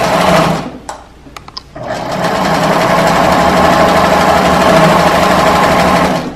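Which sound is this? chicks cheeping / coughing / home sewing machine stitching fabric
home sewing machine stitching fabric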